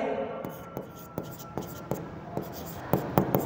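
Marker or chalk taps and strokes on a board during a bank final accounts lesson, sharp scratchy marks in an irregular rhythm, close and fairly quiet in a small room.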